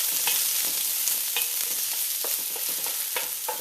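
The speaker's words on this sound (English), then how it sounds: "So in goes the onions, as well as that ginger. I'm just going to give it a quick stir." Onions and ginger sizzling for shrimp fried rice, a bright continuous hiss punctuated by repeated quick scraping strokes of stirring, close and fairly loud, with nobody speaking.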